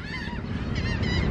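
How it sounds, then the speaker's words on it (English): A dense flock of birds at shrimping boats in Galveston honks and squawks continuously and loudly, many calls overlapping over a low rumble. "all the birds at the shrimping boats."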